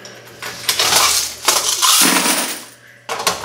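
Coins pour and clatter in a laundromat money collection, loud metallic jingling in bursts with brief pauses, close and with no voices.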